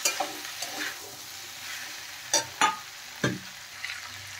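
Spices and fried vegetables sautéed in a pan, a soft sizzle broken by several distinct scrapes and clacks of a spatula, spaced irregularly.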